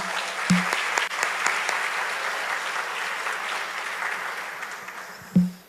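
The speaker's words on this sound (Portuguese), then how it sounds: "Vamos aplaudir o Senhor" A church congregation applauds together in a dense burst of clapping that holds steady for several seconds and then tapers. A few sharp knocks stand out near the start and end.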